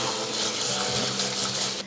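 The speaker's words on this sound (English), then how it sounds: "take this over to the sink and drain off the excess water and give it a quick rinse" Water gushes steadily from a sink tap as soaked seaweed is drained and rinsed, a close, continuous splashing rush that stops abruptly at the end.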